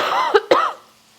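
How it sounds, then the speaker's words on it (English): Two quick, close coughs into a towel from a person cooking in a home kitchen, sharp and loud, then fading into quiet. "Now I got to get rid of this towel because I just coughed into it."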